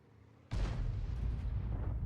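A tank cannon round firing in a video game: one sudden loud boom from a quiet start, followed by a long rumbling roll that stays heavy to the end, with no voices.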